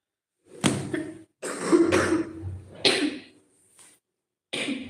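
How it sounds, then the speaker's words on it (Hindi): A woman coughs in a string of loud, close, separate bursts, some doubled, with brief silent gaps between them and no talking. "आ गई खांसी"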